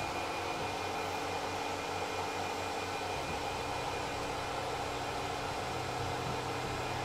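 Flood coolant sprays steadily inside the enclosure of a Tormach PCNC 1100 CNC mill, a continuous hissing wash over a low machine hum, constant in level throughout with no talk.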